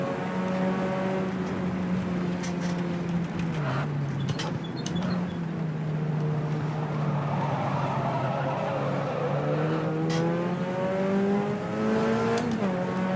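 Puma P052 race car in rFactor 2 at Ibarra, its engine roaring close and steady throughout with shifting pitch through gear changes and a few brief tire or rev spikes.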